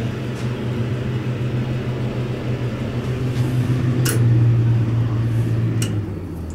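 A vintage Otis traction elevator's motor runs in a bank building, a steady loud low hum and whir that swells slightly midway, with a couple of faint clicks near the end.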